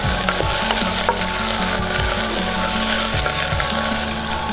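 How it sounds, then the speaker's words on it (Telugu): Green beans frying in hot oil in a pot while making vegetable pulao, giving a steady loud sizzle with a few stirring scrapes. No voices. "ఇప్పుడు బీనీస్ వేద్దాం. ఇవి 1 నిమిషం ఆయిల్లో మగ్గాలి."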